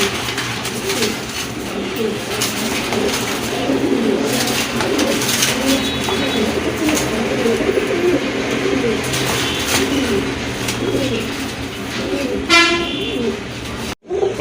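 Pigeons coo in a dense, continuous murmur at a bird market or loft where birds are for sale, with a horn-like toot near the end and no clear talk over it.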